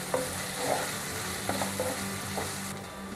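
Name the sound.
onions frying with garlic ginger paste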